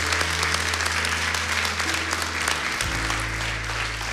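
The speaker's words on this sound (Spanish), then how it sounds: "un aplauso fuerte" Applause at a church service fills the whole span, a loud, steady wash of clapping from the congregation, with a low sustained tone running beneath it.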